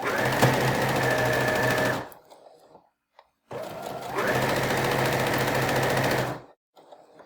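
A sewing machine stitching rows of a sawtooth quilt block together runs in two loud, steady whirring bursts of about two and three seconds, separated by a short pause, with a few soft clicks after each run.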